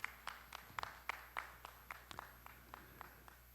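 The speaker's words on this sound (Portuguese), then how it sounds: "Uma salva de palmas para ele." Scattered applause for a panel member joining the table at an education and culture forum, with individual distinct claps in an irregular rhythm, faint and distant in a quiet hall.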